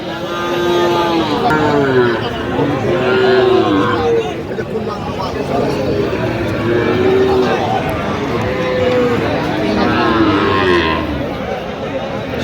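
Young bull calves at a cattle market moo repeatedly, several drawn-out calls spaced a few seconds apart, over a busy crowd murmur with people talking and passing motor traffic.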